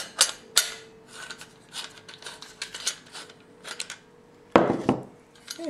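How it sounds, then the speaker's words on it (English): A 19 millimeter socket wrench ratchets on a camping lamp being modified for biogas, giving quiet dry clicking runs in short irregular bursts close by, with a sharper metallic clank near the end and no talking. "you're going to need a number 19 millimeter socket wrench."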